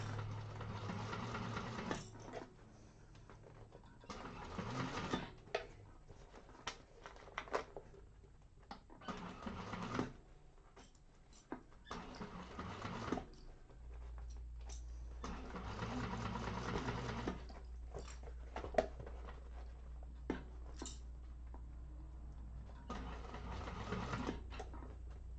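A sewing machine stitches fabric for a Konin bowler bag, running in steady whirring bursts separated by short pauses, close and fairly quiet throughout.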